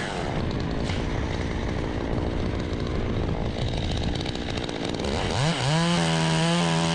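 A chainsaw clears the lower limbs of a hickory nut tree, running loud and close at a steady roar, then revving up near the end with a rising, pulsing engine whine.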